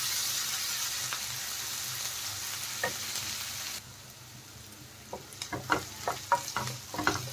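Grated garlic and ginger fry in a hot pan for paneer bhurji. A steady, close sizzle fills the first half, then drops quieter as stirring scrapes and clatters come through in short bursts.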